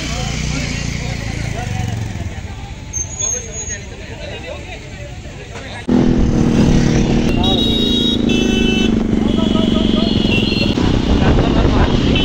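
A motorcycle ride with a continuous engine drone beneath chattering voices. The engine noise jumps noticeably louder about halfway through and stays loud to the end.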